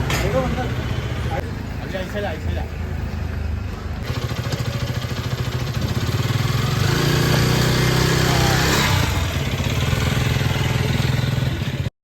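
A new KTM Adventure 250 motorcycle engine runs steadily nearby, a continuous buzzing drone that swells slightly partway through, with someone talking over it.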